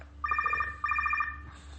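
A telephone rings twice in a row, each burst a fast electronic trill, loud and close over a low steady hum, with no talking.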